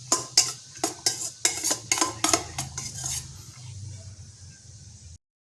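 Churumuri, a puffed-rice street snack, mixed with tomato, lemon juice and salt in a bowl: about ten quick, rhythmic metallic clinks and scrapes, then softer rustling mixing that fades out.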